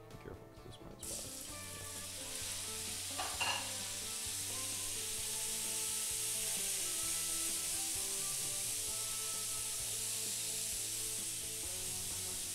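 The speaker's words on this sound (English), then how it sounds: "Just brown it on all sides and then it'll be ready to go in the pressure cooker." Venison browns in a hot pan with olive oil for a stew, giving a steady, close sizzle after a brief clatter at the start.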